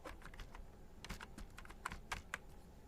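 Quick, light keystrokes tap out on a computer keyboard while entering invoice text in an Excel spreadsheet, an irregular run of soft clicks close by with no talk over them.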